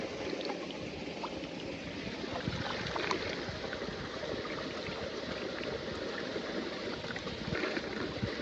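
Water gushing from a farm motor pump among cotton fields, a continuous splashing pour close by with a steady churning rush and faint bubbling, no voices over it.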